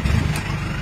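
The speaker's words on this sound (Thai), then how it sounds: "ตอนนี้ทำงานเรียบร้อยแล้วเดี๋ยวสตาร์ทเครื่องให้ฟังนะคะ" Isuzu D-Max Dragon Eye with a 3000 diesel engine and turbo, running close by in a steady low rumble with a brief higher whoosh partway through.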